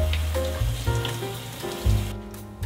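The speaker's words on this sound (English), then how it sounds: "it's super important to rinse your quinoa before cooking" Quinoa is rinsed under running water in a kitchen, with a steady close rush and patter of water over the grains, shifting slightly as the grains are moved.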